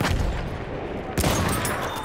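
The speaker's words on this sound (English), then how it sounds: "Enemy machine gun." Enemy machine gun fire rattles in a first-person shooter game, a dense, continuous stream of close, loud shots throughout the short stretch.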